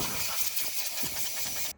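A pressure washer sprays down a Ducati Hypermotard 698 Mono motorcycle, giving a loud, close, continuous hissing blast that cuts off abruptly at the end.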